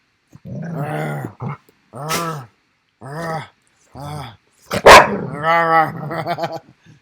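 A pet dog growls and barks indoors in a series of loud, close, voiced bursts with pauses between them, and one sharp bark partway through.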